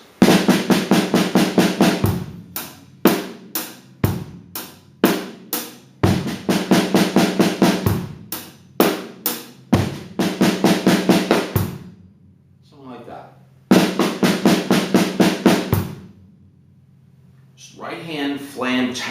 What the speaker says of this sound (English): Right hand Flam tap, and it could be longer or shorter, but you'll always end up on your right.